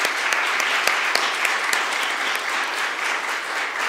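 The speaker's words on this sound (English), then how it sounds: "So please join me in one more round of applause for their commitment to our city." A news-conference crowd at a mayor's event claps steadily and densely, a full round of applause holding at a constant level throughout.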